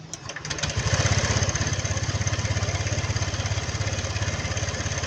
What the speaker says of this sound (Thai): ติดเครื่องหน่อย